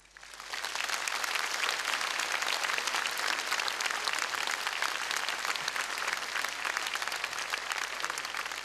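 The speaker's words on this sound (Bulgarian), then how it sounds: "Нека вашите аплодисменти в този момент да са израз на нашата подкрепа и съпричастност" A concert audience applauds at a charity memorial concert in Varna: a sustained, even roar of many hands clapping that swells in quickly after a quiet start and continues steadily, with no talking.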